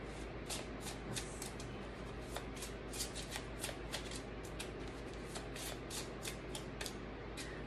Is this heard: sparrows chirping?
no